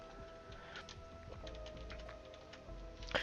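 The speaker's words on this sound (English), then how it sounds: "That noise was my keyboard shifting." A computer keyboard shifting on a desk makes faint, light clicks and small rattles, scattered over a steady electronic hum with a soft tonal background.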